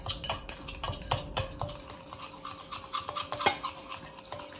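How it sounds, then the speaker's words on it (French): A utensil stirs and scrapes homemade mayonnaise around the sides of a bowl, giving quick repeated clinks and swishes in an uneven rhythm, close and clear with no talk. "Il faut bien racler les bords, parce que ça a tendance à se mettre sur les bords."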